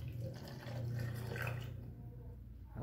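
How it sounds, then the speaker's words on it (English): Water pours from one container into a second one during a classroom demonstration of volume. A soft, short splashing gush runs for under two seconds, then fades to quiet. "I'm going to pour it into the second container."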